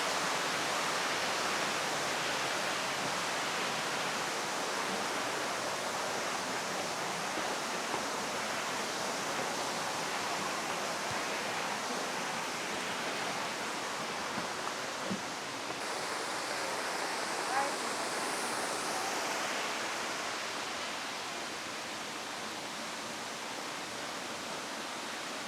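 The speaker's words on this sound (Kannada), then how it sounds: "ನಾವಿವಾಗ ಕ್ರಾಂಕ್ಶಿರಿ ವಾಟರ್ ಫಾಲ್ಸ್ ಆಲ್ಮೋಸ್ಟ್ ಹತ್ರ ಇದ್ದೀವಿ" Steady, dense roar of Krangshuri waterfall, a broad wash of falling water heard from close by, continuous and unbroken for the whole stretch with no talk.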